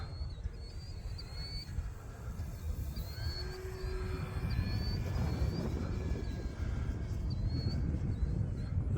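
An E-flite T-28 1.2m radio-controlled model airplane's engine drones and whines steadily in the distance over a constant rumbling wind, rising slightly as it passes.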